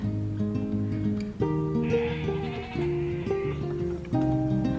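Several goats in a peach orchard bleat in overlapping, wavering cries, loud and close, calling over one another almost continuously.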